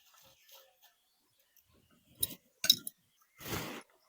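Warmed garlic cloves tip out of a container onto a white cloth, making a few quiet clinks and rattling taps in short bursts, the last one a brief rustling spill, against a near-silent background.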